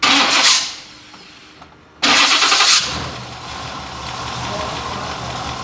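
A car engine cranks and catches through a newly fabricated exhaust system, a brief drop, then it fires up again and settles into a steady, moderately loud idle.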